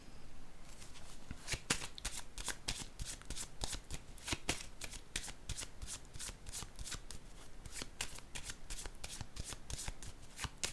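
Tarot cards being shuffled by hand in a quiet room, a long run of rapid, crisp riffling bursts that repeat in steady rhythm and sound close and soft.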